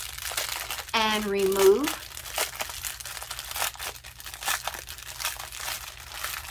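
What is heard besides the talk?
plastic bag of diamond painting drills crinkling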